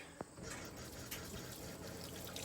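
Hot water runs steadily from a sink tap into the basin, a constant close hiss and splash with no talking over it.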